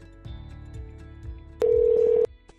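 Telephone call ringing before pickup: a steady electronic ring tone plays as a single sustained burst for under a second after faint line tones and clicks, no voices.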